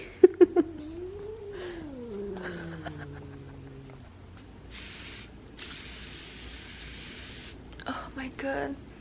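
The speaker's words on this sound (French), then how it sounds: "Je pense que le chat, il t'aime pas beaucoup, Keller." A cat gives a long, wavering, drawn-out meow close by, rising and then sliding down in pitch, followed by quieter rustling and hissing.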